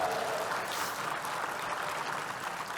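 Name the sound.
audience applause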